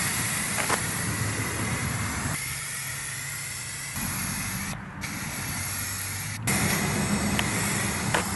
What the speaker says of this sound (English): it's time to paint the frame and transmission red